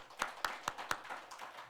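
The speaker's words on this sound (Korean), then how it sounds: "우리 박수로 함께 축하해드리겠습니다" A church congregation claps for a member's birthday during a Sunday morning worship service, giving a few quiet, evenly spaced claps that fade into soft scattered patter.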